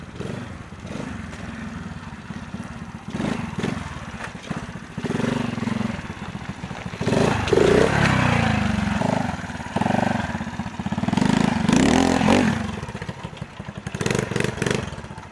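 Homemade Honda Super Cub trials motorcycle with a swapped cam, the small single-cylinder engine revving and chugging while riding slowly over rough ground, with clattering and thuds, close and loud.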